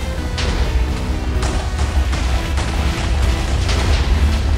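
A dense, continuous rumbling blast with crackling bursts, loud and sustained like a Minecraft explosion with debris.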